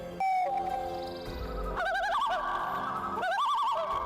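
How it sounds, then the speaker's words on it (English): A common loon at night gives a wavering, tremolo wail in two rising bouts after a long, steady mournful note, loud and close with no talk over it. "Number 3, loon."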